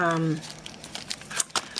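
Paper bag crinkling and rustling in short irregular bursts at close range, following a brief voice at the start, quiet and handled among scrapbooking scraps.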